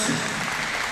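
A church congregation applauds in a dense, even wash of clapping that fills the whole moment at a steady level without breaks.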